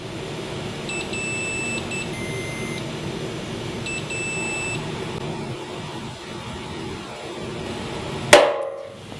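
A tensile testing machine pulls a plastic sample apart, with a steady mechanical hum under repeated electronic beeps, ending in a sharp loud snap as the sample breaks near the end.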